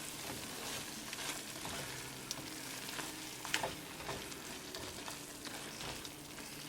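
White chicken curry simmering in a pan on low gas, a soft constant sizzle and bubbling with light stirring scrapes, quiet and without talk.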